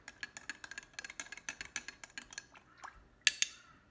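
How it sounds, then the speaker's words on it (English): A spoon stirs fresh hand-squeezed orange juice mixed with a teaspoon of sugar, a pinch of salt and water, giving quick rhythmic clinks against the glass, then a pause and two sharper taps at the end. "give it a good stir."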